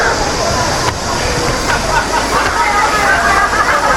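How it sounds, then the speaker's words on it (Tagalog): A river in Eoreumgol (Miryang Ice Valley), South Korea, churns steadily with a broad hiss and sloshing, heard close and fairly loud throughout. "Ayan, may ilog dito."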